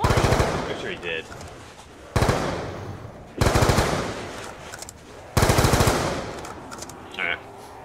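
Bursts of automatic gunfire from a Black Ops 3 zombies match come in four loud, sustained volleys with brief pauses between them, heavy and close, with game sounds and a voice occasionally underneath.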